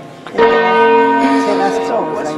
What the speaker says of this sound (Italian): Devo dire che le campane qui hanno un bel concerto.